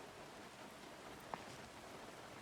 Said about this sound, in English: Are you out in this rain?